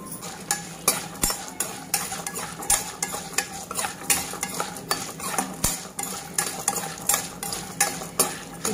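Cashews and mustard seeds frying in oil in a pan for cashew upma, a steady close sizzle under repeated scraping and clinking strokes of a metal spoon against the pan.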